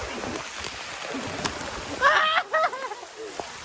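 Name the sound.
rain falling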